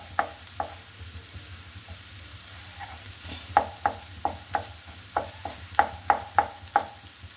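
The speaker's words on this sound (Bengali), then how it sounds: "আদা আমার ভাজাটা হয়ে গেছে, দেখুন" A spatula scrapes and taps rhythmically against a pan as ginger fries for a vegetarian dal, about a dozen sharp clinks over a soft, steady background sizzle with no talking.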